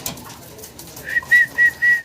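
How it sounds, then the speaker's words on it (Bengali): Magpie pigeons coo nearby in a pigeon seller's stock, with three short, soft, tonal coos in quick succession at the end over faint background noise. "সম্মানিত দর্শক আমরা দেখতেছি ভাইয়ের কাছে ম্যাকপাই কবুতর এখানে আছে।"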